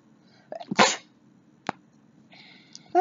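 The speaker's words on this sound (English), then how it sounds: "I think I have to sneeze." A single loud, close sneeze bursts out after a short sharp intake, then quiet room tone with a faint click and a brief sniff-like noise toward the end.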